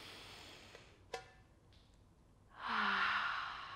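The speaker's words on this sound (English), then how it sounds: "And again, deep breath in." Deep inhale and exhale during a guided belly dance warm-up, heard alone: a soft airy breath, then a brief sharp intake, then a louder, sustained breathy sigh near the end.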